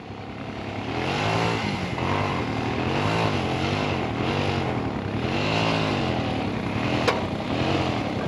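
A motorcycle engine labours uphill at high altitude on a Ladakh mountain road. Its droning pitch rises and falls in repeated strained surges, loud and close throughout, with no talking.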